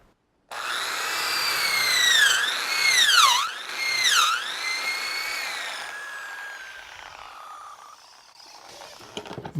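A power drill bores a hole into a small wooden log for shiitake mushroom cultivation, its whine rising and dipping in pitch several times as the bit bites into the wood, loud and close, then fading out.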